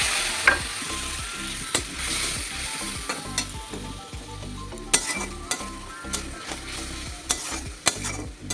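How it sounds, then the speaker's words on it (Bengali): Spices with chili powder fry in a pan with a splash of water, giving a steady close sizzle broken by repeated scrapes and light clinks as they are stirred. "একটু জল দিয়ে দিই মশলা ভাজা হইতে।"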